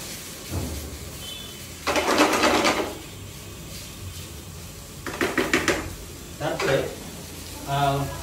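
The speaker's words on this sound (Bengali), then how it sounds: "চালটাকে একটু কষিয়ে নিচ্ছি" Rice dry-roasting in a kadai for ilish pulao gives bursts of stirring and scraping with a crackly, gritty rustle, coming in several separate rounds between quieter pauses.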